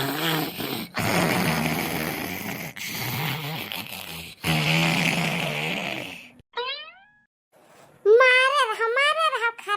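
Snoring in an Awadhi-language cartoon comedy, with two characters asleep on a cot in cool air from an AC cooler. Busy music and voices come first, then whistling, wavering snore effects rise and fall near the end.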